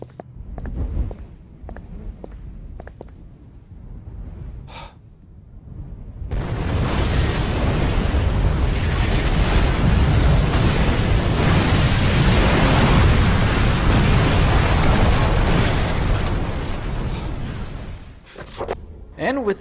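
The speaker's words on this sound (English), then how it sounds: "with a mighty explosion, the Marsh Refinery is now taken care of" In the video game Call of Cthulhu: Dark Corners of the Earth, the Marsh Refinery explodes with a loud, sustained roar of rumbling and debris lasting over ten seconds. Quieter footsteps and clatter come before it, and the roar then fades out.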